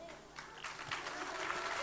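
Brief applause from an audience at a dance troupe's end-of-year show, quiet and somewhat distant clapping that swells slightly over a couple of seconds.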